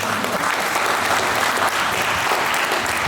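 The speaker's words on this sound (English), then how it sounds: "one more round of applause for Coach Darrell Davis." A crowd at a boxing gym event applauds Coach Darrell Davis, a dense, steady wash of many hands clapping that fills the whole stretch without a break.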